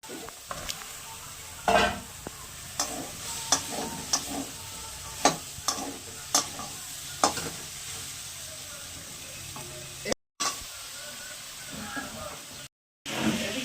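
Ridge gourd stirred into a frying spice paste in a pan, intermittent scraping stirs over a low sizzle, with brief clattering knocks and short gaps of silence.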